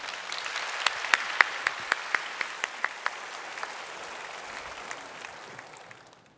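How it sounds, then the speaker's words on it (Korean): A church congregation applauds as someone comes forward to share a testimony, with a few crisp nearby claps standing out over the steady crowd clapping, which then fades out. "나오실 때 우리 박수로 맞이해 주시기를 바랍니다"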